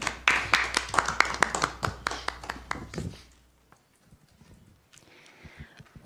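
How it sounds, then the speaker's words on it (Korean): An audience at a Democratic Party recruitment event in Korea claps for several seconds with distinct, fairly sparse handclaps. The applause then dies away into near silence with faint rustling. "큰 박수로 모시겠습니다."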